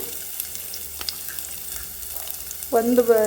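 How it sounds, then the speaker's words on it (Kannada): Finely chopped medium onion frying in hot oil, a low, crackly sizzle at modest level that swells louder near the end as a voice cuts in briefly. "ಇದಕ್ಕೆ ನಾನು ಆಯಿಲ್ ಕಾದ್ಮೇಲೆ ಇದಕ್ಕೆ ನಾನು ಒಂದು ಮೀಡಿಯಮ್ ಸೈಜ್ ಆನಿಯನ್ನ ಸಣ್ಣದಾಗಿ ಚಾಪ್ ಮಾಡಿ ಇಟ್ಕೊಂಡಿದ್ದೀನಿ, ಅದನ್ನು ಹಾಕ್ತಾಯಿದ್ದೀನಿ."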